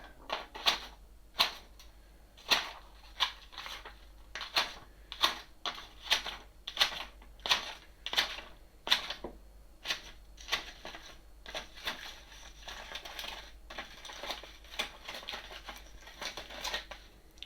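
Freshly sharpened garden secateurs snip through paper in a quick run of crisp cuts, each a sharp close click-snip, repeating steadily in a brisk irregular rhythm with no voices.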